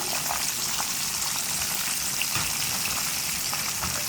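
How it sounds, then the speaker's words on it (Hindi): Zinger chicken breast fillets frying in oil over a medium flame, a steady, even sizzle with fine crackling pops throughout, close and continuous, no talk. "जिंगर चिकन को हम मीडियम फ्लेम पर फ्राई कर रहे हैं।"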